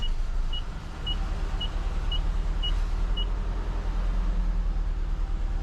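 A pickup truck engine runs steadily on a test drive, giving a low continuous droning rumble. A faint, evenly spaced beeping chime repeats several times over it, with no talking.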